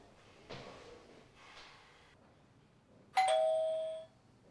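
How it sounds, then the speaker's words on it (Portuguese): A doorbell rings once at the door in a Portuguese drama scene, a bright sustained electronic chime standing clearly alone after a few faint rustling noises. "não ouviste a campainha ou quê?"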